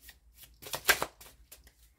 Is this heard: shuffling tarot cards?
yes